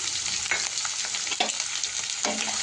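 Sliced onions and green chillies fry in a pan with cinnamon, cloves and shahjeera for a rajma curry. There is a steady close sizzle, broken by a few scraping stirs of a spoon.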